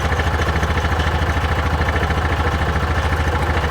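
A 2021 Axis 500 UTV engine running at a steady, loud, close idle with an even rhythmic chug and light mechanical clatter throughout.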